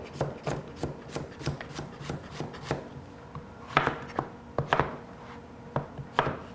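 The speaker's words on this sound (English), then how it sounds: "Roughly a cup of chopped yellow squash." Knife chopping yellow squash on a cutting board, a quick run of sharp, close taps in a steady rhythm, then a few slower, louder strokes.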